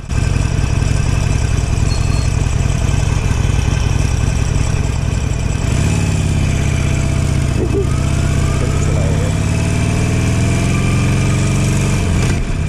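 A 2020 Harley-Davidson Forty-Eight motorcycle engine drones loud and close throughout a test ride, with a steady low rumble that dips and climbs through rough gear changes partway through.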